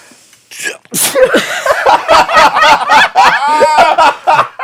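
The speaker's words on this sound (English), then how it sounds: "He sneezed." A run of quick, loud sneeze-like bursts and snickering sounds comes close up, one after another, with brief gaps between them.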